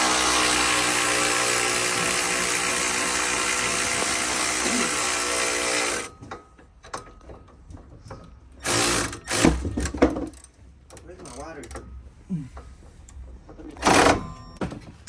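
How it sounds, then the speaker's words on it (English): A battery power tool whirs loudly and steadily on a Toyota GR86 during a lowering-spring job, removing suspension parts, then stops and gives way to scattered clanks, short bursts of the tool and handling noises. "I'm just gonna use my battery, my power tool real quick"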